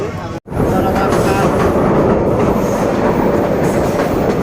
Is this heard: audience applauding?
no